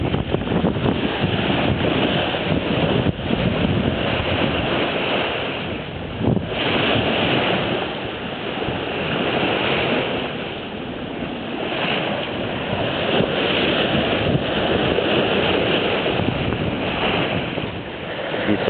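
A sailboat with a reefed mainsail runs at about 6.5 to 7 knots through waves at sea, with continuous loud rushing water and wind buffeting the microphone throughout.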